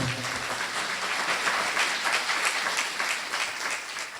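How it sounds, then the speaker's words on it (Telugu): A church congregation at a Sunday parish service breaks into loud, sustained applause, a dense wash of many hands clapping steadily for several seconds with no talk over it. "ఒకసారి గట్టిగా చప్పట్లు కొడదామా?"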